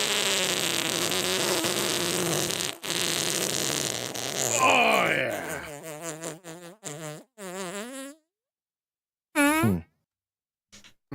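A fart sound effect played on a live talk stream: a loud, buzzy, drawn-out sputter breaking into short squeaky bursts, with a voice speaking briefly near the end.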